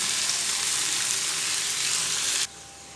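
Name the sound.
potatoes and onions frying in a pan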